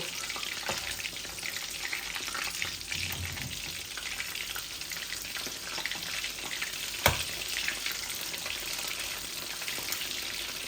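Chicken pieces fry in a pan with a steady, even sizzle that holds from start to finish, with a faint stir or clink partway through.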